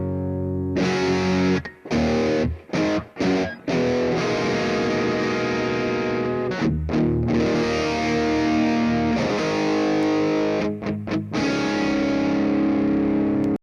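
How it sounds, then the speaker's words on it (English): Electric guitar through a Boss DS-1 distortion pedal into a clean amp: overdriven chords chug and ring with a gritty, crunchy edge. Brief stops break up the playing, and no one speaks. "let's compare that to the DS-1 into a clean sound"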